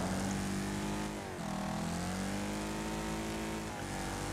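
A car engine droning steadily in the Wreckfest demolition racing game, a loud sustained whine that dips briefly and then climbs again as the revs rise.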